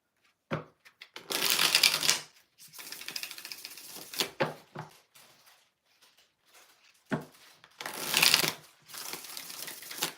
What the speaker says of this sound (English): we're going to shuffle 2 more times for the hell of it